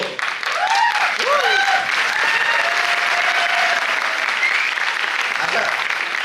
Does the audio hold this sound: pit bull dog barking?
no